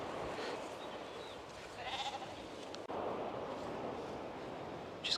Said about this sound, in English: Just going past Old Bank End Farm now with their sheep